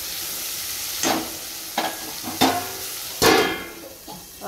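Vegetable curry cooking in a home kitchen pan, a steady soft sizzle with several louder bursts of stirring and frying at irregular intervals, close and alone without talk.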